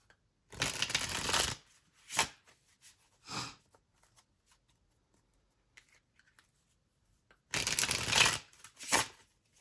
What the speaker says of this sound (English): I'm going to use the Edgar Allan Poe Tarot deck, which is a newer deck